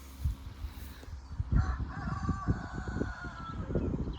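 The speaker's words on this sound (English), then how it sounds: "it's funny he crows after I leave." A rooster crows on a farm at moderate distance, the drawn-out call rising over a steady low rumble of background noise, with no voices present.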